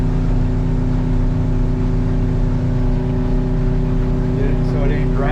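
Twin-motor Sea Sport 260 boat running on one outboard with the kicker raised, a loud steady engine drone building speed toward about 11 mph on open water, with someone talking over it.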